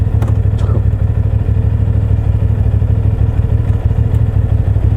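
A 450SR motorcycle engine running close by, producing a loud, steady low rumble with rapid, even pulsing that holds constant throughout.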